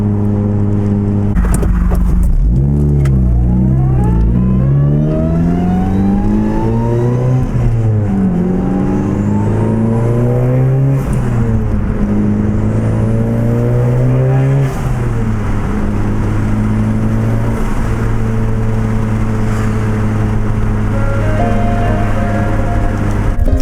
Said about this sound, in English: just so you guys can hear how amazing this new turbo is